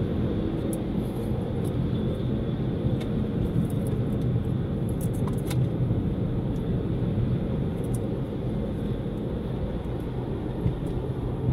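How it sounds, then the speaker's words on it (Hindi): Traffic on a main road in Bangkok, Thailand, a continuous broadband roar of passing vehicles that stays steady and fairly loud throughout, with faint high ticks scattered over it. "ये है जी थाईलैंड की मेन रोड।"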